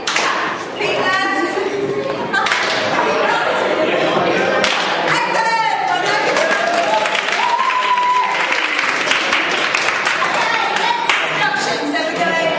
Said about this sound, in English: Jump and clap with your hands above your head.